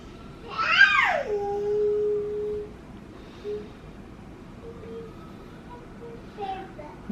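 A domestic cat gives one clear, drawn-out meow early on, loud and close, followed by quiet room sound with faint, brief bits of background noise.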